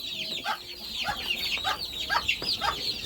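Hens cluck in a farmyard, a series of short, repeated calls in a steady rhythm, close and fairly loud against a light background of other fowl noise.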